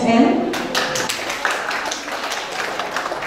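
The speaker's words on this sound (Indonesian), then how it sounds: "Boleh tepuk tangan untuk Profesor Dr. Muhammad Agus Burhan" An audience at a book launch claps for a professor, giving a burst of quick, dense hand claps that begins abruptly and carries on evenly for a few seconds, with a voice briefly audible at the start.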